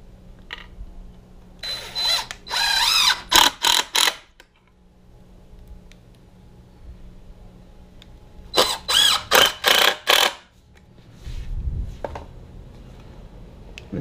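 A power drill drives lag bolts into wood while building a heavy duty floor dolly. Two loud, close bursts of whirring and squealing are each broken into several pulses, with quiet gaps between them and no talk.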